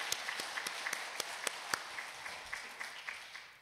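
A church congregation claps together in praise after a worship song, giving a scattered round of sharp, fairly quiet handclaps that thin out toward the end.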